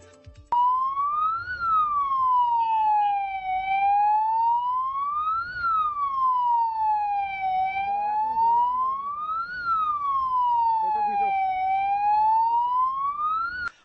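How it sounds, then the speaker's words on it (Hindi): An ambulance siren wails in a slow, rising and falling cycle, loud and close, sounding continuously while the vehicle sits stuck in a traffic jam, with faint traffic noise beneath. "जब एक एम्बुलेंस घंटों जाम में फंसी रही"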